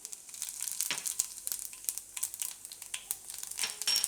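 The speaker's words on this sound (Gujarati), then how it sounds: "તેલ આપણું ગરમ થઈ ગયું છે, એમાં આપણે પહેલાં જીરું નાખીશું" Cumin seeds hit hot oil at the start of a raw banana sabudana khichdi. Close, irregular popping and crackling bursts fire rapidly over a soft sizzle.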